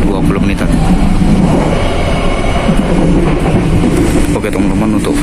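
Steady low rumble and rattle inside a Ranggajati business-class passenger coach, number K208503, on an Indonesian railway, running continuously and fairly loud without pause.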